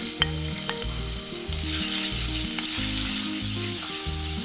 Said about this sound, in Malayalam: എണ്ണ ചൂടായതിന് ശേഷം വെളുത്തുള്ളി,